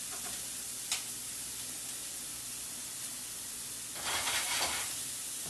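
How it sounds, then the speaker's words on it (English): Cauliflower pieces drop into a hot pan on the stove and start to sizzle, giving a soft steady hiss with a sharp click early on and a louder burst of crackling toward the end. "And now we're going to add the cauliflower."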